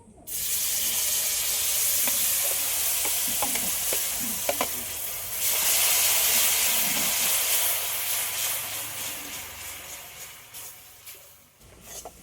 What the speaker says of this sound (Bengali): এবার এই ক্যারামেলের মধ্যে গ্রেট করে রাখা আমটা দিয়ে দেবো